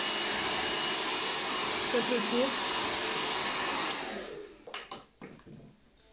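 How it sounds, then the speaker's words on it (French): A hair dryer blows loudly and steadily during a boy's haircut, a continuous broadband rush that cuts off near the four-second mark, leaving brief handling noises and a short spoken remark. "Sèche-cheveux."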